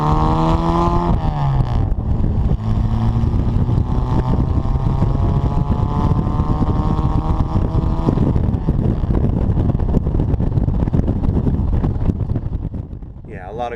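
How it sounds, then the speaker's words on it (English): A supercharged 1959 Super Bugeye Sprite roars at speed, its exhaust note droning loud and close with rising gear pulls and wind rush, then easing off near the end. "and then that beautiful exhaust note."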